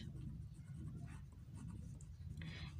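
Marker or chalk scratching on a classroom board during a Class 9 physics numericals lesson, a steady run of faint strokes under a constant low hum with no talk.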